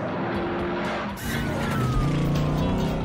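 Cars in a wild film chase scene from Dirty Mary Crazy Larry roar continuously, engines revving loud and close, with tires skidding and squealing throughout.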